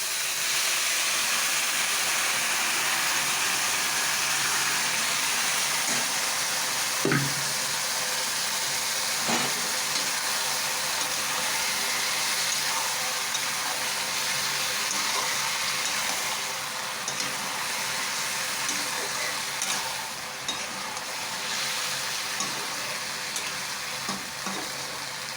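Boiled vegetables hit hot oil in a tempering pan, sending up a loud, steady sizzle and hiss that holds for the whole stretch, broken by a few faint clinks of stirring and with no talking.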